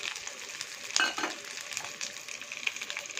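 Red chilies, fenugreek and pepper dry roasting in a pan for puliyodharai spice powder, a soft dry crackle and rattle of spices with occasional stirring scrapes, faint and close.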